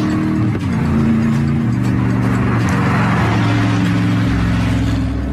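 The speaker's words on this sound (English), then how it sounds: "the only thing disturbing the peace are light aircraft and the occasional low-flying supercar" A Gumpert Apollo supercar roars at high revs on a regional airport runway, its engine note climbing through several gear shifts, loud and steady with no talk.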